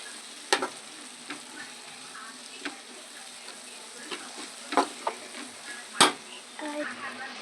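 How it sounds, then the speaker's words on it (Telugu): Fried eggs are stirred into a hot pan of egg fried rice, a soft continuous sizzle punctuated by sharp scrapes and clinks of the spatula against the pan at irregular intervals, close and alone. "ఈ ఎగ్స్ ఫ్రై చేసినవి కూడా దీంట్లో వేసేసుకోవాలండి వేసేసుకొని ఒక నిమిషం ఇలా ఫ్రై చేసుకోవాలి"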